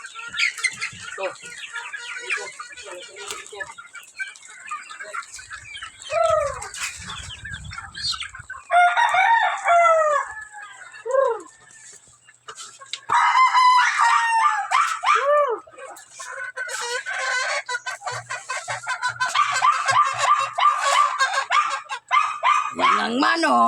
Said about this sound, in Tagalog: Yan ang manok.